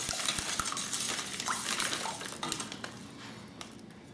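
A utensil stirs and scrapes a sugar mixture around a pot while brewing beer, with repeated metallic clinks and scraping close by and no talking.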